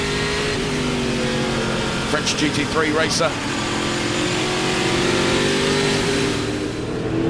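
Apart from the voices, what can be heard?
Speedcar Series race cars on track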